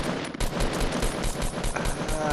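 Video game gunfire pours out in fast, dense automatic bursts, crackling loudly and almost without pause for a couple of seconds.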